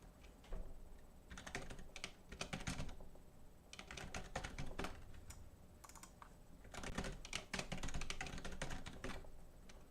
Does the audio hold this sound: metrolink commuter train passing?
no